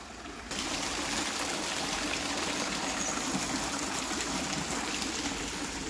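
A stream of water flows along a hiking route between Newport and Cwmbran in Wales, a loud continuous rushing and gurgling that starts abruptly and carries on steadily throughout.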